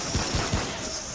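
A pistol in Remnant: From The Ashes fires three quick shots in a row. The reports are evenly spaced and fairly close, set over a dense, steady game background.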